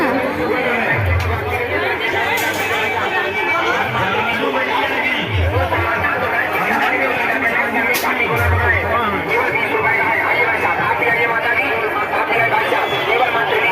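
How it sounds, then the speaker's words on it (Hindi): Steady crowd chatter and hubbub fill a busy Mahashivratri fair, a dense babble of many voices with occasional low thumps, continuous and close throughout. "भीड़ बहुत है।"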